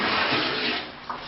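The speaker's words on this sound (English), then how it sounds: "So what I'll do is I'll fill up the bucket" Tap water runs into a bucket in a hotel bathroom, a steady, close rushing splash that eases slightly toward the end, with no talking.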